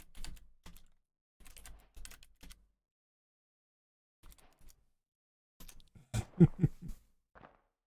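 Bursts of computer keyboard typing come in short clusters separated by silent gaps, with a louder, denser flurry of keystrokes near the end, close and crisp with no talking.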